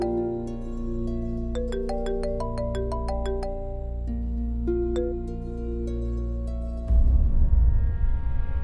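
A mobile phone rings in a home with a melodic, harmonic ringtone of repeated rising note patterns, steady and fairly loud for about seven seconds. Then it gives way to broader household noise, with no talk.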